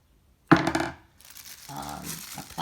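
A plastic bag is handled close by, with a sharp burst of crinkling and crumpling, a brief pause, then softer rustling that builds again.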